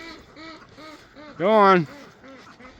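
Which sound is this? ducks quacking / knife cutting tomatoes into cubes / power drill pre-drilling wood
ducks quacking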